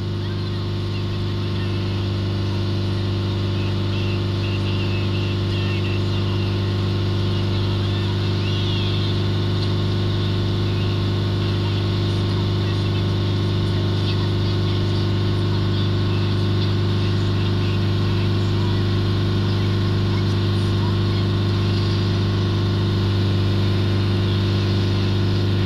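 A steady, droning Toyota Hilux D4D diesel engine held at 3000 RPM, loud and constant throughout with no change in pitch and no voices.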